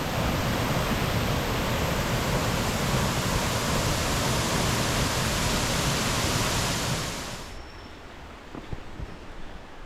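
Mok Fa Waterfall near Chiang Mai, Thailand, roars as a loud, dense continuous rush of falling water, then abruptly drops to a quieter background with faint rustles near the end.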